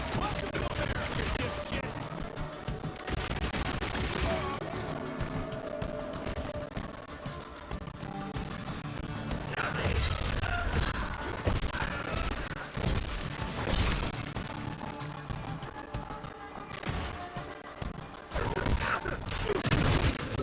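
Rapid revolver shots from hammer fanning in the Evil West video game, sharp bursts scattered across a long, busy stretch, mixed with clashing and impact noises while someone talks over the action.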